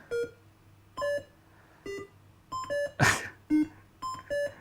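Atari 2600 Breakout game beeps as the ball bounces: short electronic tones in an uneven rhythm, differing in pitch, with one harsher buzzy burst midway, clear and alone.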